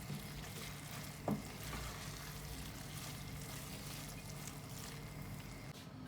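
Hot oil tempering poured into a pot of daal mash sizzles and fries in a steady, soft crackle, with one brief clink near the start and no voices.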